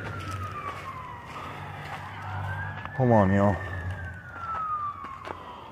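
A distant emergency siren near a South Bend, Indiana shooting scene in the early morning, wailing in a slow rise and fall that swells faintly and recedes, under traffic noise, with a brief burst of close talk in the middle.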